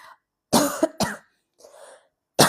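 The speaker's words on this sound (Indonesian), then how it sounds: "Kok batuk ya?" A woman coughs several times in short, close bursts with brief pauses between them, followed by a softer breathy throat sound and another cough at the end, in a quiet room.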